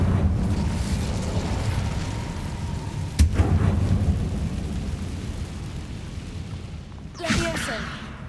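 An Incendio fire spell in Hogwarts Legacy bursts with a rumbling roar, a sharp crack partway through and a second flaring whoosh near the end, with in-game noise underneath.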